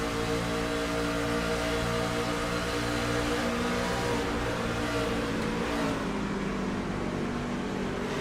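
A racing truck's engine roars at full speed through an oval race at Charlotte, a loud and steady drone with a constant pitch that fills the whole stretch, and no one talks over it.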